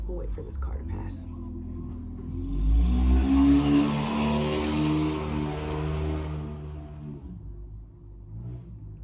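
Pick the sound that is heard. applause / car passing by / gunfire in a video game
car passing by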